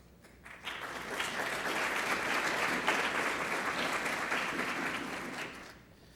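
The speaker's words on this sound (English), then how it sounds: "why do you always clap when it's my last presentation?" An audience at an awards ceremony breaks into warm applause, swelling quickly, holding steady for several seconds of dense clapping, then tapering off near the end.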